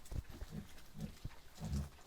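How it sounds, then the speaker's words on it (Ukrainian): Young farmyard pigs grunt and snuffle close by, a string of low, soft grunts repeating in short bursts with quiet shuffling between them. "Ось такі свинюшки."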